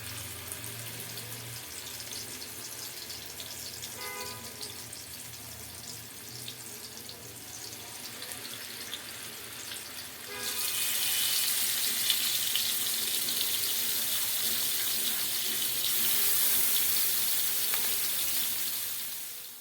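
Pieces of rohu fish drop into hot oil in a pan and burst into a loud, steady hiss of frying partway through, after a quieter stretch with faint clinks, the sizzle continuing close without talk.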